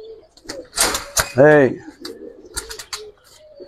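Giribaz pigeons in a loft, giving a clear close coo amid bursts of wing flapping and rustling, with someone talking over the birds.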